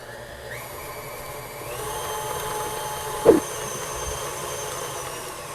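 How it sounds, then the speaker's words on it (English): An electric mixer runs at medium-high speed, whipping frosting for chocolate peppermint cupcakes, giving a steady whirring motor hum with one sharp knock partway through, close and moderately loud. "I'm going to increase the speed a little bit on my mixer and let that go for a couple of minutes until my frosting is nice and light and fluffy"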